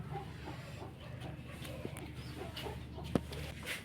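Native village hens cluck softly nearby against a low steady hum, with a sharp short sound near the end.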